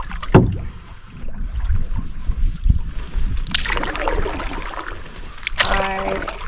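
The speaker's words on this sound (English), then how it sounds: "just paddling around my little peninsula here" A canoe paddled on open water, with several distinct paddle strokes, drips and water swishes close by over a soft outdoor ambience.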